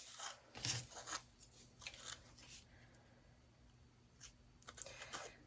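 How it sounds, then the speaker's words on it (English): Scissors snipping through folded paper for a simple craft, a quiet series of crisp cuts and rustles in irregular bursts, close by. "And then cut kind of flat at the top."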